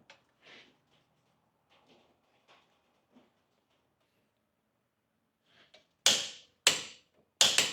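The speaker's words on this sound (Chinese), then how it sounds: "这里我也用扭矩扳手去给它上紧" A torque wrench tightens a car's wheel axle nut to 230 Nm, the brake disc held with a bar: faint taps and fiddling at first, then three sharp, loud, close metallic clicks near the end.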